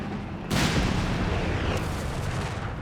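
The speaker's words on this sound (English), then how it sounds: "That was a pretty good strafe there for Muerte." An airstrike strafing run in the World War II strategy game Company of Heroes 3 hits suddenly and loudly, followed by a long rumbling wash of impacts and explosions that slowly thins out.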